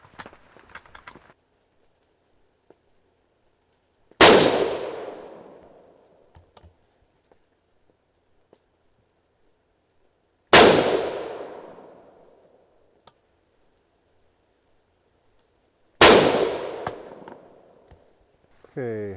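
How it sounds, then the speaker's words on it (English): Three sharp, loud rifle shots from an SKS firing 7.62x39 handloads with the bayonet fixed, spaced roughly six seconds apart, each with a decaying echo tail in otherwise quiet surroundings. "We'll shoot 3 shots and see what happens."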